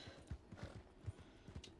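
Horse hooves galloping in Red Dead Redemption 2, a quick irregular clip-clop rhythm of several hoofbeats, fairly faint in the game mix with no talk over it.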